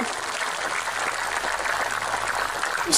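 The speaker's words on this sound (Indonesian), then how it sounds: "tepuk tangan dulu dong" Audience applause at an Islamic religious lecture (pengajian) in Sukorejo, Ponorogo, a steady broadband wash of many hands clapping at once, sustained evenly for a few seconds without talk.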